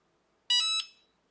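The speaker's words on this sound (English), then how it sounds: "There, did you hear that beep?" A Cricut Mug Press gives a single loud electronic beep, a bright harmonic tone lasting about a third of a second, then silence.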